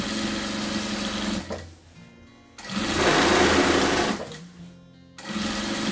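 Sewing machine stitching bias binding along the edge of a patchwork scrap rug: two steady whirring runs, close and fairly loud, separated by brief pauses.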